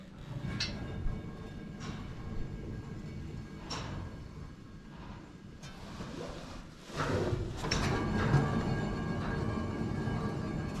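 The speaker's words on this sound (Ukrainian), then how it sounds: "Як ніби трошки є гул в підшипниках барабана." A Sampo 500 mini combine's spinning threshing drum with worn bearings, giving a continuous low mechanical hum and rumble close by, punctuated by a few metallic knocks and a louder surge partway through, with no voices.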